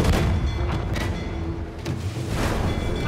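Ship cannons firing during a naval battle in the video game Assassin's Creed IV Black Flag, a dense continuous roar of booming blasts and rumble with no clear gaps between shots.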